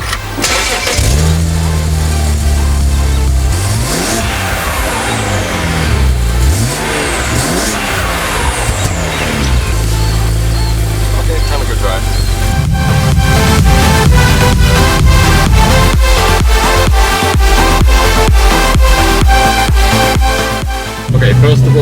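A BMW E92 widebody car's engine cranks, catches and is revved hard several times, with loud rising and falling sweeps that settle into a rough, pulsing idle, close up and with no talking.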